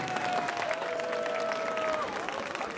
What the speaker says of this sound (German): Ein großer Applaus bitte.